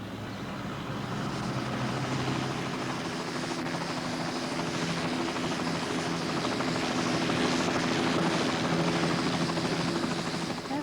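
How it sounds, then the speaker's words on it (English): A helicopter drones steadily overhead, its rotor thrum and engine noise continuous and fairly loud throughout, with no other sounds standing out. "There's a helicopter going over."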